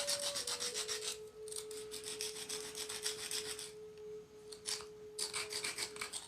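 A softer stone used as a hammerstone grinds and dresses the edge of a stone tool, giving repeated rasping, scraping strokes in close bursts, with a steady faint tone running underneath.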